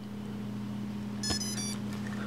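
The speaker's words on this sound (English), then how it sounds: "I think it's 3 beeps." A few short, thin electronic beeps from a Blade Nano CPX brushless helicopter's speed controller on battery connection chirp over a steady low hum, quick and close together, fairly faint against the background drone.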